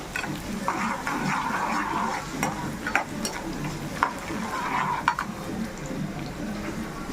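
Onions sizzling and frying in plenty of oil for mutton fry, a steady hiss with occasional spoon stirs and clinks against the pan, close and moderately loud.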